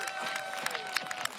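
A small but loud crowd at a race finish cheering and clapping, with bursts of claps and whoops over a busy background that includes a high whistling tone, close and lively, briefly mixed with a voice.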